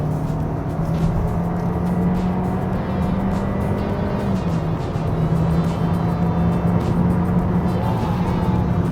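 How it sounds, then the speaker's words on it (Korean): Hyundai Sonata The Edge 1.6 gasoline sedan accelerating hard to overtake, a steady engine drone with a rising hum and constant road and wind roar heard from inside the cabin, no voices. "이게 아마 실 추월 가속일 거예요."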